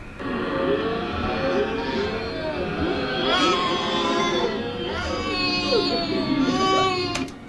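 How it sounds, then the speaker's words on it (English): A loud, continuous wailing infant scream, processed to a warbling, altered tone, sustained for several seconds without pause. "I took a baby scream"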